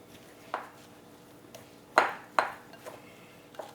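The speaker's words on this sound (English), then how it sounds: "I'm just going to give this a quick toss" Several light metallic clinks and taps of a pan being tossed, scattered irregularly over a few seconds, fairly close with no talking.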